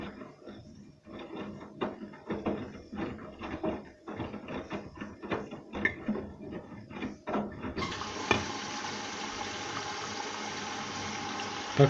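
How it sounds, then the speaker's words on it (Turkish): Water splashes and trickles into a measuring cup inside a washing machine running a 30° easy-care cycle for dark laundry, then shifts to a steady rushing flow as the filling continues. "az önce şelaleden ölçü kabına su doldu"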